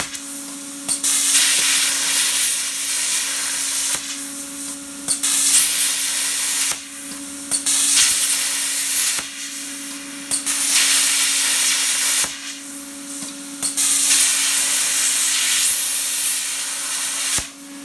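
A plasma cutter cuts letters freehand into a metal workpiece, a loud harsh hiss with a steady tonal hum, switching on and off in several bursts of a few seconds each with brief pauses between.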